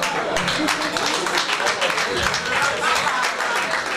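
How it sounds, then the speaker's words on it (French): Dense, steady applause fills a gala dinner at an African cultural festival in London, loud and continuous with crowd voices mixed in. "On peut l'applaudir."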